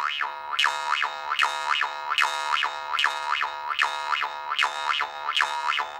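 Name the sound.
jaw harp playing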